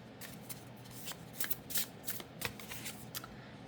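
A deck of tarot cards is shuffled close by, giving a steady stream of crisp riffling flutters and slaps with no talk over them.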